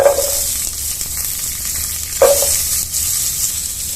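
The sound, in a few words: shallots and curry leaves frying in oil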